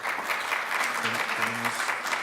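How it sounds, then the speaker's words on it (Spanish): Applause from a symposium audience, a steady dense patter of many hands clapping together at close range, with a brief murmur of voices underneath. "Muchas gracias, las palmas, por favor."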